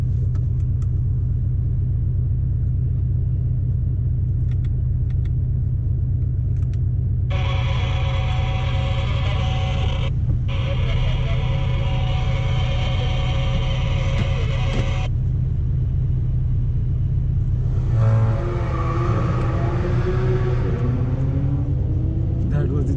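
A Porsche GT3 on a race track: a constant low engine rumble, with a strong, harmonic-rich engine tone layered over it for several seconds mid-way and a rising engine sweep near the end. Voices may sound faintly underneath.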